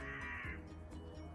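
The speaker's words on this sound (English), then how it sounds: "You can hear the birds in the background, you can hear the crows." A crow caws from a distance outside a backyard barbecue shack, faint and brief against a low, steady background rumble.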